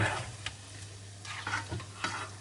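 Cheese egg snack dough frying in hot oil, a steady soft sizzle broken by a few stirring clicks and scrapes against the pan, close and fairly quiet with no talking.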